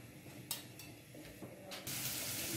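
Garlic paste goes into hot oil in a pot. After some quiet clinks and rustles, a sudden loud, steady sizzle bursts up and holds to the end.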